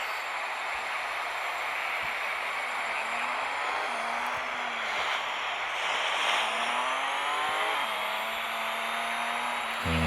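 A twin-turbo race car in a racing video game accelerates hard, its engine droning loud and steady while the pitch climbs and drops again at each gear change.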